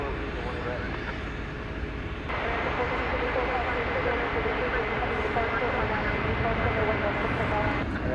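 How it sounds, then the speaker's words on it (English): An American Airlines Boeing 737 MAX 8 jet on the runway at Dallas Fort Worth airport at night, a steady broad engine roar that swells slightly and holds, with voices talking over it. "This will be American Flight 1434, headed off to Vancouver in Canada, a MAX 8"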